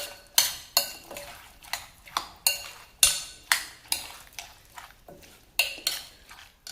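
Repeated clinks and scrapes of a utensil against a bowl as Korean salad is mixed, about a dozen sharp rhythmic strikes, close and fairly loud, with no talking.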